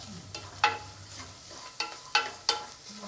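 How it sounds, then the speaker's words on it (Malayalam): Small onions and curry leaves sauté in a pan, giving a soft steady sizzle punctuated by several sharp scraping clicks of a spoon stirring, close and fairly quiet with no voices. "ഇനി ഇതിലേക്ക് കുറച്ച് കറിവേപ്പില കൂടി ചേർത്ത് കൊടുത്തിട്ട് ലൈറ്റ് ബ്രൗൺ കളർ ആകുന്നവരെ നമുക്കൊന്ന് വഴറ്റി കൊടുക്കാം."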